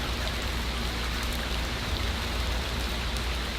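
Steady rain pours down during a severe thunderstorm, a dense continuous hiss of drops striking the ground, fairly loud and unbroken, with no voices.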